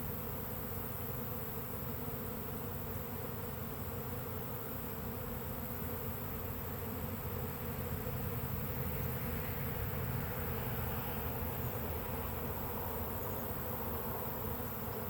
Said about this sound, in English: The bees are they're slowly leaving the limb, so I'm not really even having to disturb them much.